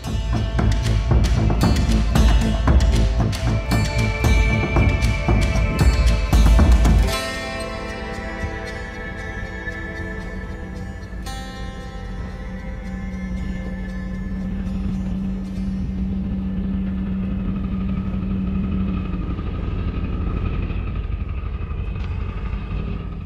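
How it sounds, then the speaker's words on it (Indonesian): Tuna fishing boat Tokiwa Maru No.28 heads out of harbour, a loud dense engine roar for several seconds that drops to a steadier, quieter drone and hum for the rest. "Kapal melaju meninggalkan pelabuhan."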